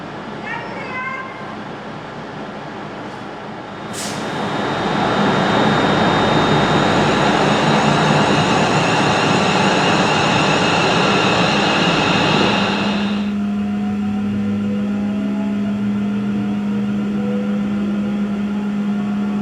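Train pulling out of Crewe station on the Birmingham to Liverpool line, a steady loud roar of traction and rolling noise that swells after a few seconds, then eases into a lower steady hum.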